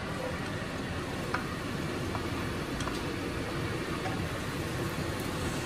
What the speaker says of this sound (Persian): روغن گرم شد بینده عزیز، ما بالش پیاز اضافه کردم